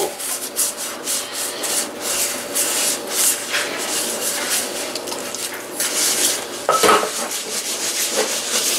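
A Scotch-Brite dish cloth scrubs stuck-on food residue off a pan, producing a steady, close, continuous rasping rub with brief louder scrapes, no talking.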